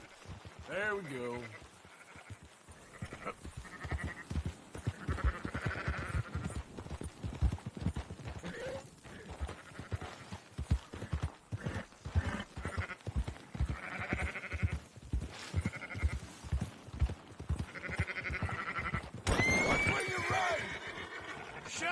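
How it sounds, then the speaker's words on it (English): Sheep bleating and horse hooves clip-clopping in Red Dead Redemption 2 during a flock round-up, the hoofbeats steady and close while characters talk throughout and music plays. "why don't you leave the sheep to me?"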